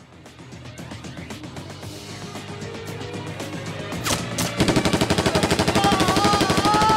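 Gunfire effects on a film set, scattered shots building into a rapid, loud burst of automatic fire, with no talk.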